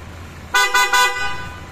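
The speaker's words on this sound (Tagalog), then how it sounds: "Lakas pa ng busina mo" Loud PIAA car horn on a rewired car, sounded in two or three quick blasts close by, with a brief echo afterward and no talking.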